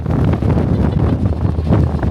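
Strong wind on a hiking track near Milford Sound, New Zealand, buffets the microphone with a constant low rumbling roar, loud and close, with no pause.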